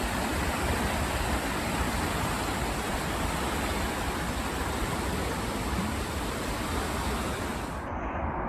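Fast-flowing flood water of the River Mersey pouring over a small drop, a loud, continuous broadband rush that stays steady and close, cutting off abruptly at the very end.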